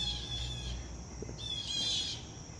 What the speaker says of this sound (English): The Crows and the Blue Jays are giving each other a hard time.